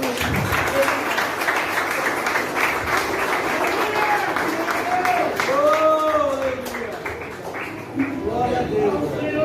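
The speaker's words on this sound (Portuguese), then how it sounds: "as palmas para o Senhor" A church congregation claps its hands in praise, a loud, steady wash of applause filling the room while voices call out and sing over it throughout.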